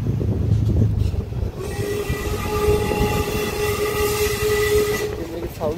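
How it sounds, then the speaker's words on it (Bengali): A coal-fired Darjeeling train rumbles and clatters along close by, and a long, loud whistle sounds over the steady running noise. "ভয়ঙ্কর ট্রেন।"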